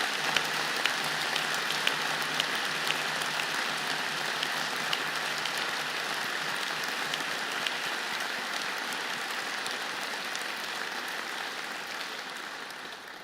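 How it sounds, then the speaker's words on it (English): Sustained audience applause fills a hall at a university presidential installation, a dense steady wash of many hands clapping that holds evenly throughout and tapers slightly at the very end. "would you please join me in a round of applause to thank those who have traveled to be here"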